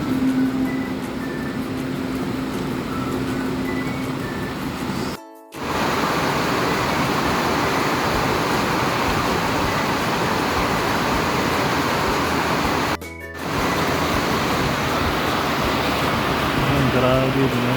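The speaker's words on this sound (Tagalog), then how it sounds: "Lakas ng ulan." Heavy rain in a Philippine downpour, a steady, loud broadband roar of falling water that continues throughout, with two brief dropouts, close and constant.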